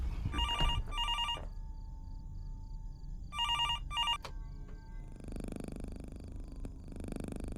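A phone rings in a horror video game in two electronic bursts of tones, then pauses and rings twice more, followed by a softer droning hum with a sharp click.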